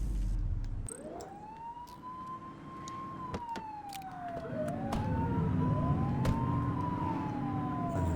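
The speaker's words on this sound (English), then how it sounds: "Turn that siren off." A police car siren wails in slow rising and falling sweeps, repeating several times at moderate distance over a background rumble of traffic.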